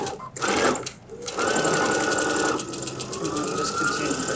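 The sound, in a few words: sewing machine sewing a zipper pouch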